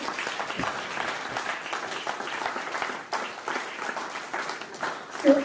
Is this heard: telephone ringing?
no